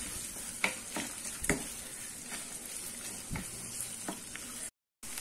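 Finely chopped large onions sauté in a pan with a steady, even sizzle and a few sharp scraping stirs, close and moderately quiet, briefly dropping to silence near the end.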